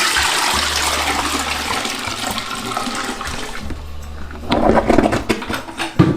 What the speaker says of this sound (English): fill it with hot water. Not scalding, not boiling, just hot water, and dump it down into the toilet